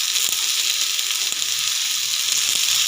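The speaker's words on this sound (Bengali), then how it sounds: "আমি ভালো করে ভেজে নেব।" Whole cumin and spices with chili sizzle in hot oil in a pan for a banana-flower and milk fry, a close, steady crackling hiss with a few faint pops and stirring touches.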